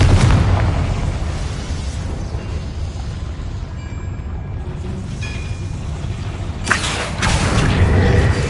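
A Confringo fire spell exploding in Hogwarts Legacy: a sustained roaring blast with rumbling debris, easing slightly mid-way and then surging again with a sharp crackling burst near the end, loud throughout, with no talk.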